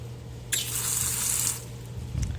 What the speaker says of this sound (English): So we just attach our hose, and whenever we have to fill it up or do a water change, we just put it right in there